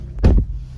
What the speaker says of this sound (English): Why the heck are my windshield blades on?